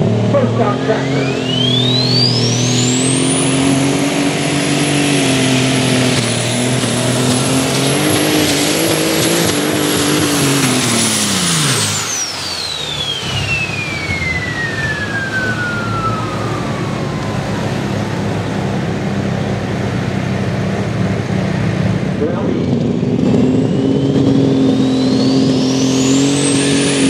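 A light super stock tractor roars loud and close during a tractor pull, its engine screaming at high revs for several seconds before winding down and then building up again.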